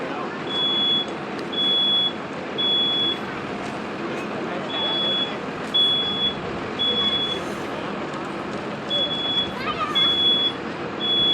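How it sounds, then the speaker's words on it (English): Smoke detector alarm sounding during a live fire safety demonstration at a building with sprinklers, repeating high beeps in regular bursts over a loud roar of fire and crowd noise, with people talking throughout. "The smoke detector went off a little early"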